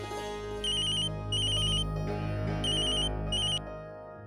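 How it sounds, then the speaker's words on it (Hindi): An electronic telephone rings in a home in a Hindi television drama, giving two-part warbling trills in a steady repeating pattern that sits over a low background hum. "मिस्टर रायचंद का फोन है।"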